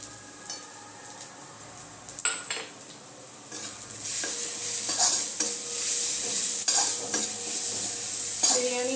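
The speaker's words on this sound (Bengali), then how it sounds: "এর মধ্যে আমি বিরিয়ানি মশলাটা দিয়ে দিলাম।" Biryani masala sautéing in a pan for aloo dum biryani, with scraping stirs and clinks of a utensil against the pan over a soft sizzle that grows louder and steadier partway through.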